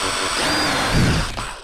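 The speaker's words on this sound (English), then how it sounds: "So guys, I'm gonna drill a pilot hole in the middle." A power drill bores a pilot hole during brake work on a 1952 Chevy truck, giving a steady, close whirring grind for under two seconds.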